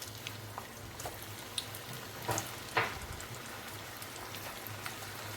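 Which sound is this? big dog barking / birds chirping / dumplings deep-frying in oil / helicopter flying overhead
dumplings deep-frying in oil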